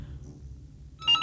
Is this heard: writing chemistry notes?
no